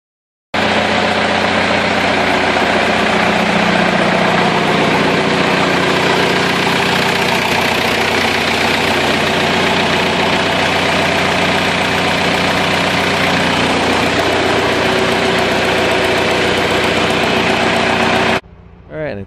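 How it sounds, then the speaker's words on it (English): A John Deere 2520 tractor engine idles close by, producing a loud, steady, throbbing rumble that runs evenly for about eighteen seconds before cutting off abruptly, with no talking. "I'll insert a short video of it sitting there idling,"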